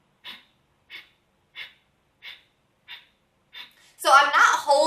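Six short, sharp exhalations through the nose at a steady rhythm, Kapalabhati yoga breathing, close and fairly quiet, followed by a louder burst of voice.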